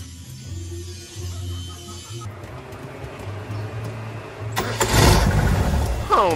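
A 1991 Mitsubishi Lancer is started after its battery has been fitted: the starter motor whirs steadily for several seconds, then a louder burst of noise rises near the end, heard close by.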